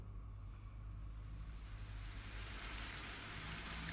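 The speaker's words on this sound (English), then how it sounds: "I assume it's going to stop raining now that I've purified the Demon Lord." Steady rain falls in the video game Ender Lilies, a continuous soft hiss that grows slightly denser and brighter as it goes on, with no voices.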